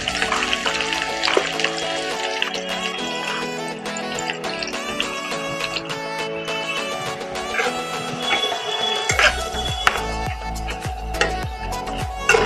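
Chopped onions frying in hot oil give a steady sizzle and crackle beneath fairly prominent background music, growing a little denser toward the end.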